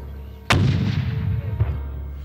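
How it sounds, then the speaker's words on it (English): A Russian military 40mm grenade launcher round strikes a Citysafe Module X barrier wall during blast testing, giving one sudden loud boom followed by a long rumbling decay and a smaller second thump, with no voices. "Ballistic and blast testing were performed by the Russian military using their 40mm grenade launcher against Citysafe's Module X wall."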